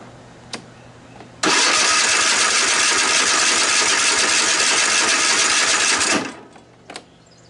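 A Cub Cadet lawn tractor engine with a throttle cable fault runs at low throttle, a loud steady drone lasting about five seconds before cutting off, with faint clicks before and after.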